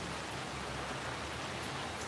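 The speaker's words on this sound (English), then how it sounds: "it is very lovely just to sit out here in the peaceful rain" Steady outdoor rain falls evenly as a soft, continuous hiss with no voices.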